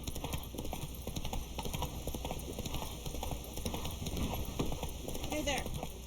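Horse hooves clip-clop at a gallop in the video game Witcher 3, a steady rapid beat heard close under game ambience and voices talking throughout.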